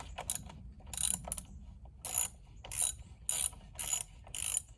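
A 10 mm socket wrench ratcheting on a bolt, about eight short bursts of rapid metallic clicking in an uneven rhythm, close up, with faint background hum and no voices.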